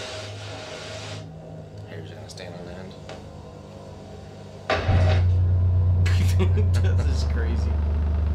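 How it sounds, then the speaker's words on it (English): A Dayton Audio MX-15 DIY subwoofer plays a loud, steady deep bass test tone that surges in about halfway through and keeps droning, with the pitch stepping down near the end, while people react with talk and exclamations over it. "Now it's time to get some testing done on the Dayton Audio MX-15."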